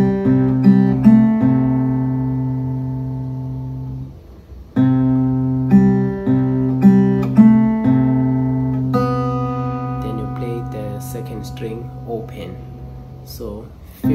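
Fingerstyle acoustic guitar picks out an opening pattern, with clear plucked notes ringing in a slow repeating figure, a short pause, then the phrase resuming, close and alone.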